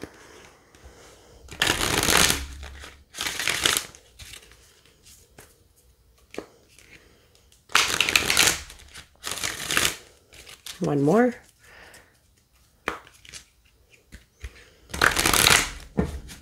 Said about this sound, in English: So we're going to give that a shuffle.